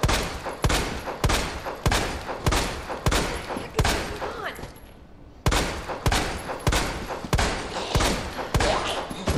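Gunshots fire from a gun in Resident Evil 2 Remake, Story B, as loud single cracks in an even rhythm about every half-second, with a short pause midway before the shooting resumes.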